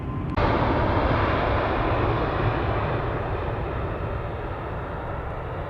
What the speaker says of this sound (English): So that's the noise you hear, the airplanes taking off.